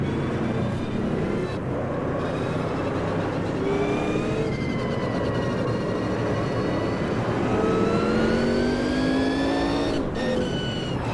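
Sauber C9 race car in a racing video game at Spa 1993, its engine revving hard and steadily through the gears with rising whining pitch sweeps, loud and continuous, with no talking.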